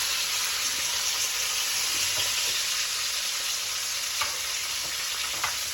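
A steak sizzles in a frying pan with a steady, close, bright crackle, broken by a few sharper pops and spits, and no one speaks.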